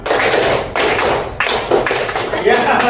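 Students in a classroom clap two counted rhythm patterns in a row, one of four beats and one of five, producing loud, closely packed group claps in repeating bursts with brief pauses between sets.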